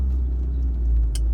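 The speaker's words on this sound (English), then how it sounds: "that noise that is making, I think that's the differential" BMW E46 M3 driving, its differential giving off a steady low drone beneath continuous road and engine rumble, close and even with no talk.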